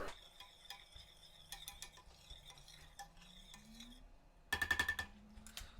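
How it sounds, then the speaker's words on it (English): A spoon stirs vanilla bean paste into a milk mixture for chocolate crème brûlée, giving quiet, irregular clinks and scrapes against the bowl, ending in a brief burst of louder rapid tapping. "A little bit of a stir."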